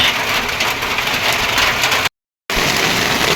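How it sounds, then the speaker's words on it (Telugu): Heavy rain pours steadily over a village as a dense, loud hiss, broken by a brief silent gap and then resuming. "సో వాన కూడా అట్లే పడుతుంది నాకు తగ్గట్టు"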